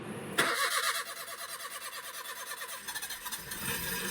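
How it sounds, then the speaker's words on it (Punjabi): A motorcycle engine turns over and catches, then settles into a steady putter and idle, close by. "ਇਹ ਸਟਾਰਟ ਹੋ ਜੇ ਫਿਰ ਲੈ ਜਾਣਾ ਮੋਟਰਸਾਈਕਲ"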